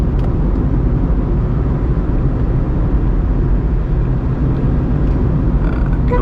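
A Volkswagen Polo car being driven, giving a steady, loud engine and road roar that holds constant throughout with no pauses or voices.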